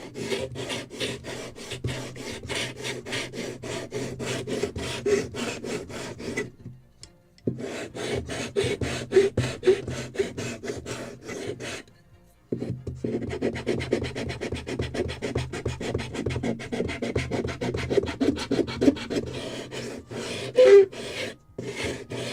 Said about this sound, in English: because I need to sand this.